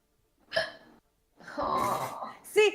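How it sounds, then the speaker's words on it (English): Two short, sharp hiccups from a man, one early and one at the end, with a stretch of breathy throat noise between them, close to the microphone. "I have weird hiccups"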